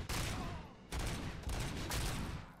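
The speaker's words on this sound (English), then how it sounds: "Where are you shooting at us, bro? Why are you shooting us" Rapid bursts of gunfire in the Robocop: Rogue City video game, loud and close, with several volleys separated by brief gaps.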